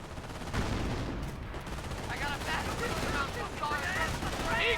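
Rifle shots and MG42 machine gun bursts crackle through a Company of Heroes 1 battle between US and Wehrmacht forces, with a steady barrage of gunfire, distant explosions and battle noise running under a caster's commentary throughout.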